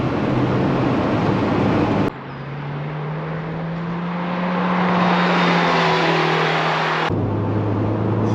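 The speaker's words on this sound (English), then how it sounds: "it'll just rev out and rev out and rev out, and it sounds superb even with the roof up" A Toyota MR2 Mk3 sports car engine, roof up, revs high and hard, drops to a steady lower drone for a few seconds, then roars back up.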